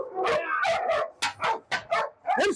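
A dog barks and yips in a rapid series of loud, close, excited barks during bite training on a farm.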